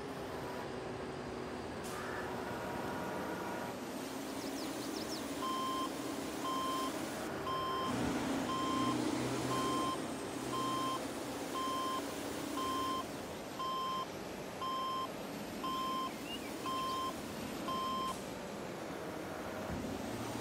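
Big truck, a Volvo R100E in Farming Simulator 22, reversing with a steady series of evenly spaced electronic beeps over a constant engine drone, moderately close and without speech.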